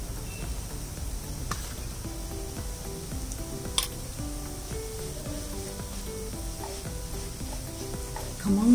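Moong dal roasting in ghee sizzles softly while it is stirred, a steady low frying hiss with occasional scrape and clink of a spoon against the pan.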